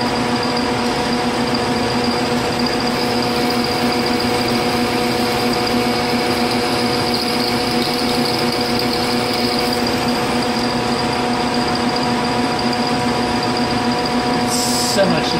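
A metal lathe cuts under power feed with a steady mechanical whine and humming tones, continuous and close, over which a person talks throughout.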